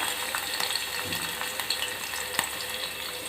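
Finely chopped garlic, five or six cloves, fries in a little oil for a vegetable soup, giving a soft, steady sizzle with an occasional faint clink of a pan.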